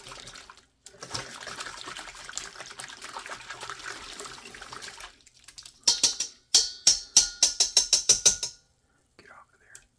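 A whisk breaks up sourdough starter for a 100% hydration loaf, a burst of quick rhythmic scraping strokes close by that follows a stretch of talk.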